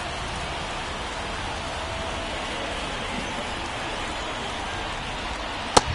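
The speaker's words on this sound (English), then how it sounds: "This rain is not letting up." Steady rain falls on a baseball stadium during a Cincinnati at Boston game, a dense, even hiss with no pauses that holds constant throughout, broken by one sharp click near the end.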